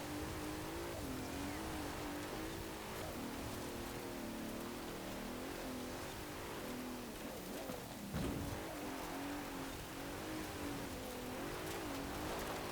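A 2017 Bentley Continental Supersports with all-wheel drive driven off-road in Forza Horizon, its engine droning steadily and loudly under a wash of rain-like noise.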